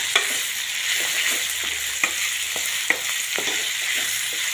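Chopped boiled potatoes frying in hot oil while being stirred, a steady sizzle broken by a few sharp scraping clacks of the spoon against the pan, alone and fairly close.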